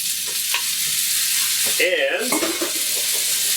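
Pasta tossed into a hot pan where pork or ham has been softening and browning, giving a steady loud sizzle with a stir and clatter partway through, and a brief voice near the start.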